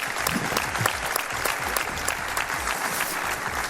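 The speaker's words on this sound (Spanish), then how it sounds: "Gracias, un aplauso para vosotros, muchas gracias." Studio audience applause at a Spanish television show, dense steady clapping from a large crowd that runs through the whole stretch at an even level, with no voices rising above it.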